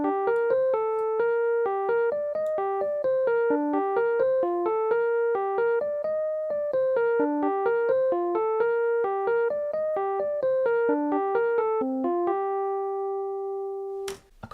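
The bouncy melody plays on a MIDI electric piano as a steady run of clean, bright synthetic notes at a brisk, regular rhythm, with no other instruments or voices, and ends on one long held note.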